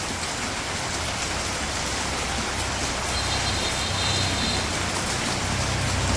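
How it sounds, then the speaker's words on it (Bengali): Heavy monsoon rain pours down in a Bangladeshi village, a dense, loud, continuous wash of drops hitting surfaces with no break. "বৃষ্টি নামে গেছে এতক্ষণ বৃষ্টি নাই জোরে বৃষ্টি নামছে এখন"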